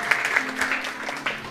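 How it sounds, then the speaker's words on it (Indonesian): Brief burst of clapping from a church congregation during a Bible service, moderately loud with a few sharper claps standing out. "Tepuk tangan"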